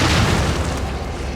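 A loud explosion in the horror video game The Evil Within, a deep booming blast with a rumbling low-end tail that fades slowly, heard alone with no speech.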